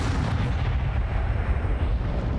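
The Bombarda explosion spell in Hogwarts Legacy, a heavy booming blast with dense low rumble that fills the whole moment, loud and continuous with rolling debris-like texture and no talking.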